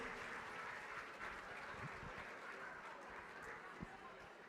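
Crowd applause at a charity gala auction, greeting the winning buyer after a lot sells for $5,000; steady, dense clapping fills the room at a moderate distance, with scattered crowd noise and some voices mixed in.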